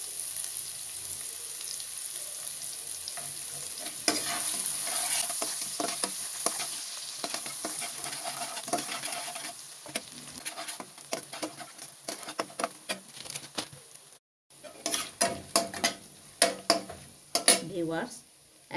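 Chopped onions fry with mung beans and aubergine in a pan, a steady sizzle broken by repeated stirring scrapes that turn sharper and more irregular toward the end.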